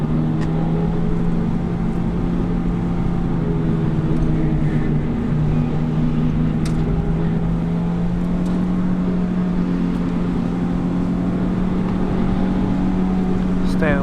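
Race-car engine held at a steady drone with a sustained harmonic whine as the driver opens the throttle on a track at Carfest 2017, continuous and close throughout, with a spoken instructor's voice faintly underneath.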